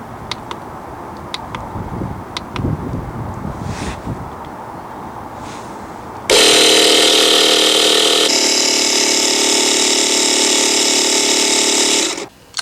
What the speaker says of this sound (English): So now that the compressor's built up to 15 psi, we're now ready to drain our first tap